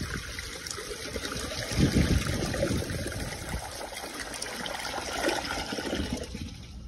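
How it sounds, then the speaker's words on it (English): A 2002 Sanitarios Maracay toilet flushes hard and fast, a loud close rushing surge of water that peaks early and then settles into a steady swirling drain and trickle. "that has a very violent flush there"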